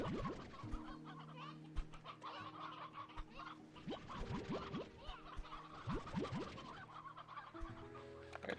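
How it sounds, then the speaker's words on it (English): Chickens in the video game Slime Rancher 2 cluck in quick, repeated bursts with scratchy movement, fairly close and alone without talk. "I gotta go sacrifice some chickens to the thing."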